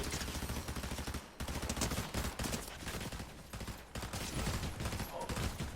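Dense gunfire in a shooting video game, a near-continuous barrage of loud rapid shots with brief pauses, packed and close throughout.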